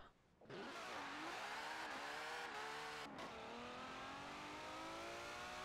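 A Mercedes X-Class pickup with a dirt tune in Forza Horizon 4 revs up hard after a quiet moment, its engine note climbing and dipping through gear changes and then holding a loud, steady drone.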